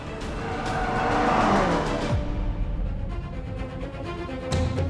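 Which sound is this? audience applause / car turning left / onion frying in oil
car turning left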